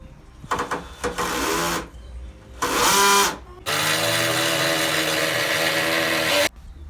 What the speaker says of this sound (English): we will use this 10mm drill bit and drill 1/2 centimeter deep so the nail head sinks into the wood